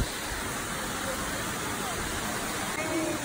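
Water spills over a dam at Chewacla State Park in Auburn, Alabama, making a constant, close rushing roar that stays steady and even throughout.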